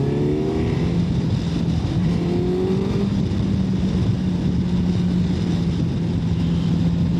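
A Suzuki motorcycle engine, either a GSX-S1000GX or a Hayabusa, revs steadily and close up, its pitch rising and falling in smooth sweeps over a constant engine drone.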